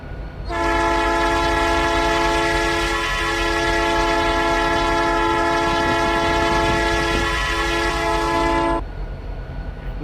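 A Canadian Pacific freight train horn in the RO-Scale Sandbox game blares as one loud, sustained multi-tone chord lasting about eight seconds over a low rumble, then cuts off sharply.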